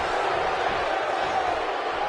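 Steady roar of a wrestling arena crowd in a PS4 wrestling game, a dense unbroken wash of cheering heard at a distance, with a commentator's voice over it.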